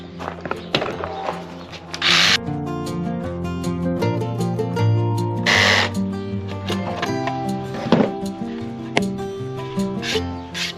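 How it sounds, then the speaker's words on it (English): A jigsaw cuts straight lines through wood, its blade rasping in tonal bursts with brief pauses and restarts, loud and near, with no talking. "I'm going to cut my straight lines with the jigsaw"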